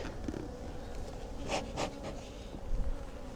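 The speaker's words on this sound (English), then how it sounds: "there's quite a lot of bees in here" Honey bees buzz steadily inside an opened hive during a swarm-cell inspection, a dense continuous drone close by with a few brief louder swells and no talking.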